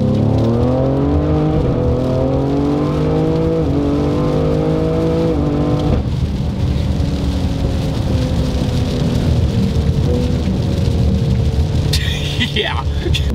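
A 700 hp tuned Ford Explorer ST accelerates hard in third gear, a loud engine roar climbing steadily in pitch, dropping briefly at a shift, then pulling again up close.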